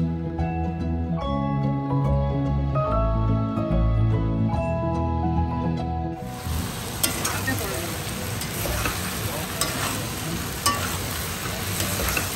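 Chicken, onions and capsicum fry for chilli chicken in a home kitchen, starting under music, then a loud, steady sizzle with scattered stirring clicks from about halfway.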